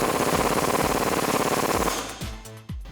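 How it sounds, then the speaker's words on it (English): Rapid, loud mechanical rattling of a power tool, likely an impact wrench, tightening a factory shock mount bolt with an 18mm socket on a Jeep Wrangler JK 4-door during a suspension lift install, cutting off before a few short clanks. "Then we can tighten that up with an 18mm wrench and socket."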